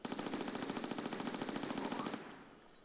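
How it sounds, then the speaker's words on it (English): Rapid Uzi bursts in Tomb Raider: The Last Revelation, a steady stream of quick shots lasting about two seconds before cutting off into a fading echo, with no talking. "I'm gonna get my Uzis, and I'm just gonna fire away."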